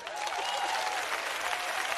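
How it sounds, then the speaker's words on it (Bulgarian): Dense, steady applause from an audience for a singer's impersonation, many hands clapping at once with no breaks, moderately distant. "Аплодисменти"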